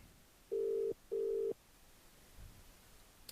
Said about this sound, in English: Oh, the phone call's coming through for us